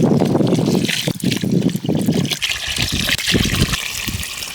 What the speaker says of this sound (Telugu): ఇప్పుడు ఇందులో మనం ఐదు లోటాలు నీళ్ళు అయితే వేసుకుందాం